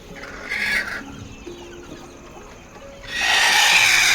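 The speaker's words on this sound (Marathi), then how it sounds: "इथे सुद्धा एक कोंबडी बसलेली आहे" Hens in a poultry brooding shed give a few scattered clucks and calls, with a louder burst of squawking near the end and no talk.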